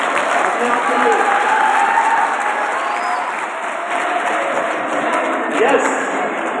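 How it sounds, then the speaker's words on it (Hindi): Students in a college career counselling session applaud themselves, a dense, steady wash of clapping from a large group filling the room at a constant level for several seconds. "वंडरफुल, तालियां अपने आप के लिए।"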